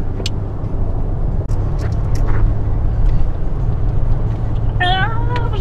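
Steady car interior road rumble during a road trip through Andijan, Uzbekistan, loud and continuous, with a few brief sharp sounds and a short whining tone near the end.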